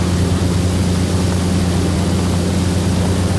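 A small single-engine airplane in the X-Plane VR flight simulator drones in a loud, constant broadband hum with a steady low engine tone, heard from the cockpit with no talking.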